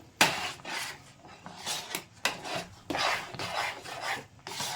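Roasted semolina is stirred into jackfruit batter in a bowl, giving repeated rasping scrapes of a spoon against the container in uneven strokes, close and fairly quiet.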